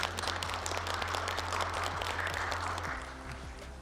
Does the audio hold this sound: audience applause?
yes